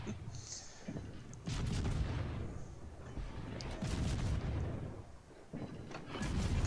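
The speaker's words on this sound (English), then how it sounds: "Concentrate fire on the enemy warship." Warship artillery in a naval video game, a Canadian destroyer firing on an enemy battleship: heavy booming salvos rolling one after another at moderate loudness, with no clear talk over them.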